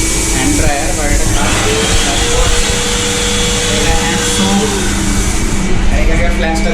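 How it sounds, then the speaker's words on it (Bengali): A hand dryer in the bathroom of a Vande Bharat Express train gives a steady, loud, whooshing blast of air that runs continuously while a person talks over it. "এখানে হ্যান্ড ড্রায়ার"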